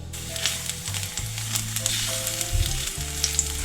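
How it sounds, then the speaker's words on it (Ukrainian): Loud, steady sizzling of garlic frying in hot olive oil, a continuous crackling hiss with a low hum underneath. "Додаю часник та злегка його обсмажу."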